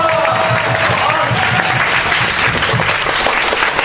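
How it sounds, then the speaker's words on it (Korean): A chapel audience claps and cheers in a dense, steady wash of applause that stays loud and continuous throughout, with a few voices mixed into the crowd noise. "매주 이렇게 서로가 환호해주고 격려해주고"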